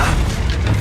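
Incendio fire spell going off in a Harry Potter video game, one short loud booming blast with a deep low rumble that fills the whole moment, no voices.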